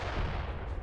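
Heavy cannons fire in Age of Empires III, a dull booming blast of artillery that sustains low and rumbling before another sharp crack right at the end.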